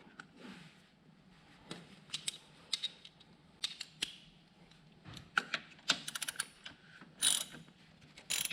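Socket wrench ratcheting while a 10mm bolt is tightened on a Honda 400EX ATV front brake, quick bursts of close clicking with short pauses between, no voices.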